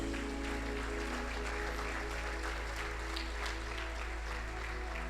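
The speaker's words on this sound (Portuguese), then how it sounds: "Aplauda ao Senhor Jesus." A church congregation claps for Jesus during a sermon, a steady, dense wash of applause filling the room throughout, with a low hum underneath.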